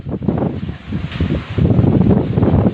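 Strong wind gusts roar in Gorontalo after tearing the roof off an office building, a rough rushing wind noise buffeting the microphone, swelling louder in the second half.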